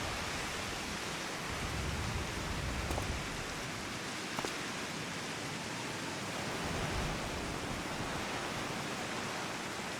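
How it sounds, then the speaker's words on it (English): Heavy rain in Final Fantasy 14 pours as a dense, steady, wide hiss that fills the whole scene, with a few faint ticks and soft low rumbles underneath. "This rain is crazy."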